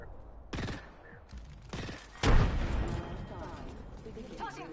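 Video game combat with a grenade throw: loud bursts of gunfire and a heavy blast land up close, with clattering effects trailing after.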